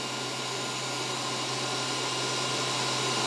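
A WULF PCP air compressor's fan motor runs in a steady, loud, unbroken whir with a constant low hum beneath it, close by and with no talking.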